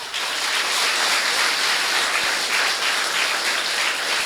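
Dense, steady applause from an audience at a talk by Vidwan G.S. Natesh, a broad wash of many hands clapping that holds loud and even throughout, with no voices on top.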